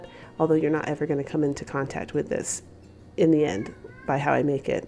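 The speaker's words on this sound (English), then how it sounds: "Sorry if you can hear my cat in the background." A house cat meows repeatedly in the background while a person talks over it, the cries rising and falling between and under the speech.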